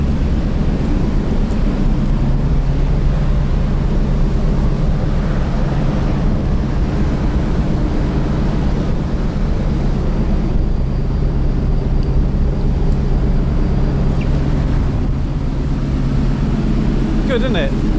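Ferry engines rumble through an engine vent on a day-trip crossing toward Calais, a loud continuous deep bassy drone with wind noise, steady throughout.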